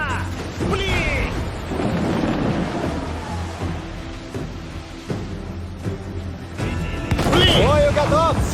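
Heavy booming ship cannon fire in Assassin's Creed 4: Black Flag naval combat, blasts mixed with creaking and sea noise while someone talks and shouts over the battle.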